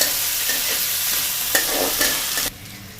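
Chopped green chillies frying in a pan with a steady, loud sizzle and occasional stirring scrapes, the hiss dropping off sharply near the end.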